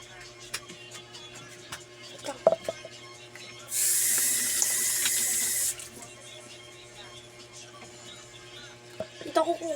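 Indoor tap water gushes briefly in a steady hiss for about two seconds mid-way, surrounded by quiet room noise, small clatters and faint voices.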